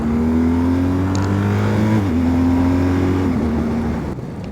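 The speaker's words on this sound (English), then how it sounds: "let's join this 4-lane motorway" Car cruising along the M62, a busy four-lane motorway in England, with a steady loud engine drone and tyre roar that shifts pitch with gear changes, continuous and close throughout.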